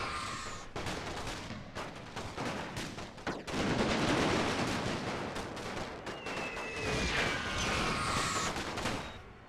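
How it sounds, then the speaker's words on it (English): Artillery and rifle fire rumble and crackle continuously in a WW1 battle from a Total War mod, with dense overlapping shots and deep booms over a wintry Russian front. "But with the artillery fire as well"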